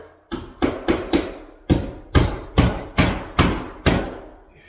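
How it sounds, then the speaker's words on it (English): Nine sharp, evenly spaced hammer blows drive a nail into the end flap of metal drywall corner bead, each strike a close, loud knock with a short ringing decay, with no talking. "put a nail in the very end of it. So it tightens it down"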